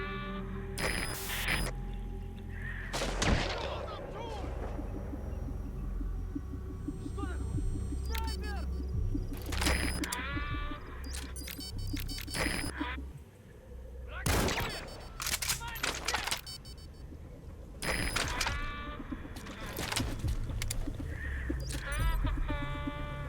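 Gunfire volleys in Metal Gear Solid V: The Phantom Pain, with loud repeated sharp bursts of shots and booms in clusters over game noise, while someone talks and reacts between the volleys.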